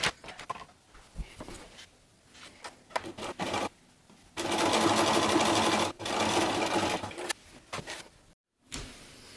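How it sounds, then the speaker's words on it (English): A sewing machine top stitches the lining of a zipper pouch closed, running in several close bursts of steady mechanical whirring with short pauses in between and no talk. "And then you are going to top stitch this hole closed."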